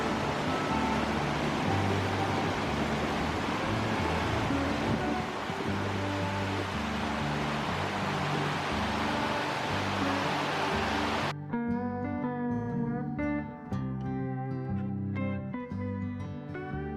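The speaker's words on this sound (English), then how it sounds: "Tyndall Creek flows from Emerald Lake down to Dream Lake." Tyndall Creek in Rocky Mountain National Park, running from Emerald Lake down to Dream Lake, makes a steady, dense rush of flowing water. Around eleven seconds music takes over and continues to the end.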